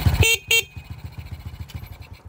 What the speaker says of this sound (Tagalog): tutubukin kagad natin yung busina